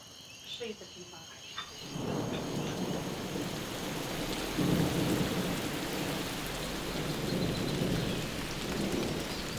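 Heavy rain and a thunderstorm, a loud dense wash of rainfall that sets in abruptly and continues steadily, with deep thunder rumbling up partway through.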